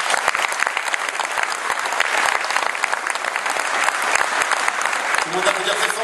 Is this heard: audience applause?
yes